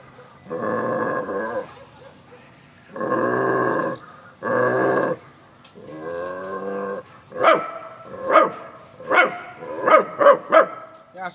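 A person imitates a dog, first with drawn-out growling grunts, then a run of sharp, loud barking yaps near the microphone.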